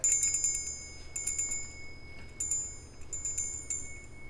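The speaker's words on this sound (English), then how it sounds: "this bell doesn't have the little knob there to make the loud noise" Small ritual bell without a clapper rings softly in repeated quick clusters of bright, sustained chimes, with a clear high tone lingering between strikes and nobody talking.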